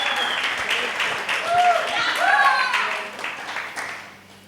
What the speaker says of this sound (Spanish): ¿Qué tal si aplaudimos a Jesús y comenzamos esta segunda sección?